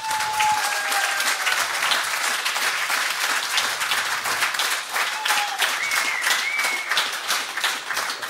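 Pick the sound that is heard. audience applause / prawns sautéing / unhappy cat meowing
audience applause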